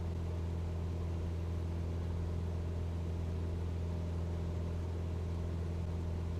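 A Cessna aircraft engine in Microsoft Flight Simulator 2020, a constant, droning propeller hum heard from inside the cabin, steady and unbroken throughout.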